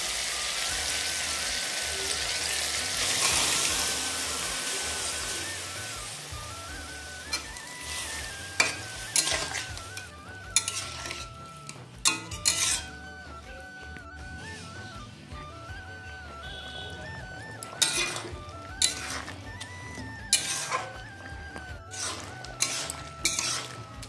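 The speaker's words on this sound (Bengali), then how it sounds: "মশলাটা কষানো হয়ে গেছে, এবারে আগে থেকে সেদ্ধ করা শিমের বীজ এর মধ্যে দিয়ে দেবো।" Pre-boiled flat bean seeds stirred into a frying spice paste for a bean-seed dal, a continuous sizzle under repeated scraping and clanking of a spoon against the pot, loud and close, with no talking.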